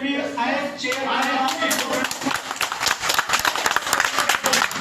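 Students applauding in a hall after a chairman's ruling during a thesis open defence, with voices at first and then a dense burst of many hands clapping for a few seconds.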